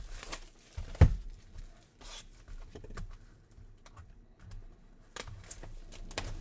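A blade slices open 2021 Bowman Draft baseball card boxes, giving a sharp tearing rip near the start followed by faint scraping, rustling cardboard and soft handling noises up close.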